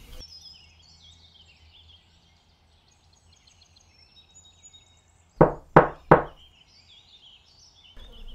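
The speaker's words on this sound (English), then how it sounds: "Knock, knock. Who is it?" Three sharp knocks on a door, evenly spaced and loud against a quiet room, with faint birdsong in the background and no talking.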